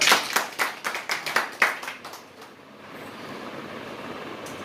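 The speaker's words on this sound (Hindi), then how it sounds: "उनके लिए ताली बजाएं।" An audience applauding at an MSME awareness seminar, a burst of clapping that lasts about two seconds and then fades into a low room hum.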